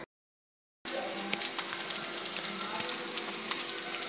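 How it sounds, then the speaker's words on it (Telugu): Mango seed rasam boils in a pot, giving a bubbling, sizzling hiss with small pops. It starts after a moment of silence and runs steadily at moderate volume, with no talk. "ఇదిగోండి, టెంకల చారు మరుగుతుంది"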